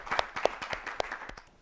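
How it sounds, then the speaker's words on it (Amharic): A studio audience claps for a schoolgirl contestant on an Ethiopian children's quiz show, brief scattered hand claps with a few sharper slaps over low room noise, modest in volume and quickly fading. "እሺ ለአርሴማ አጨብጭቡላት በደንብ አድርጋችሁ።"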